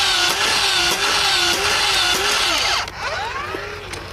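A motorized Nerf Dart Tag Speedswarm blaster whines loudly and continuously while firing Elite darts in a quick, regular rhythm of shots. The motor note shifts and softens partway through.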